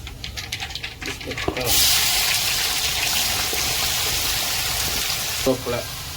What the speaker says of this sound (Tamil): அடுத்து வெங்காயத்தை கொட்டிக்க வேண்டியதுதான்.